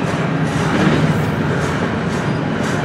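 Norfolk Southern freight train led by locomotive NS 9630, heading west: a loud, steady rumble of wheels on track with faint clatter, continuous and close.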